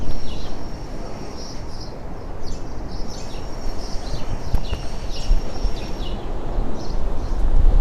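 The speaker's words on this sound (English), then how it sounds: "Can you hear the birds?" Birds chirp and tweet in short bursts over steady wind and surf noise on the seafront at Vignola a Mare, Sardinia.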